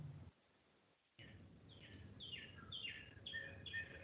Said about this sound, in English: we heard birds chirping